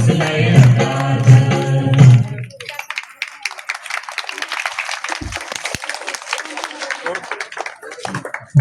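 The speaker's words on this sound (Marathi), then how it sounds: "जोरदार टाळ्या होऊ द्या." A school audience at Rajarshi Shahu Maharaj school, Kharpundi, bursts into sustained applause after a dance performance; dense clapping follows a few seconds of loud singing and music, continuing steadily to the end.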